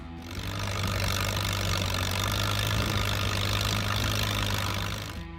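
An Allis-Chalmers WD45 farm tractor engine from 1953 idles in a steady low rumble, holding even from start to finish with no voices.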